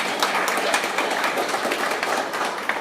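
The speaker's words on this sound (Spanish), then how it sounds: "Un aplauso para Alvarito" A church congregation claps in sustained, dense applause, many hands at once, fairly loud and even for a few seconds.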